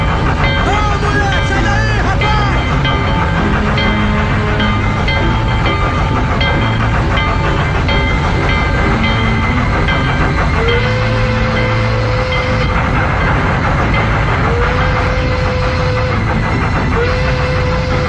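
A train runs on its rails in a 1989 Brazilian film, with a loud, steady rumble and clickety-clack that fills the whole stretch, and drawn-out squealing tones joining near the end.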